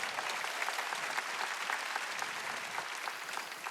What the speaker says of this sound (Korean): 두 손을 들고 가면 깨달은 사람만 박수치라고요